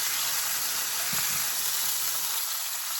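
A pork chop sizzles steadily in a hot frying pan, a loud continuous bright hiss, with a brief low thump and scrape midway as the chop is flipped over.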